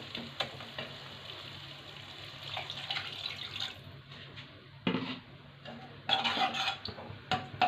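Hot water poured into a pan of cooked tomato masala for a spicy Tangra fish curry, giving a steady wet sizzle and splashing hiss with scattered clinks of a pan, rising in bursts toward the end.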